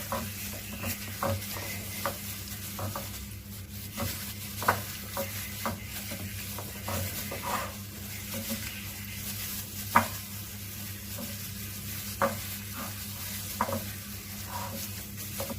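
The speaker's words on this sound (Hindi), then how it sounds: "अब इसके अंदर हम लोग थोड़ा सा मैदा शामिल करेंगे और इसको मिक्स करेंगे" Flour being stirred into a chicken wing marinade in a bowl, producing soft scraping and squelching mixing strokes with occasional light clinks, steady and close with no talking.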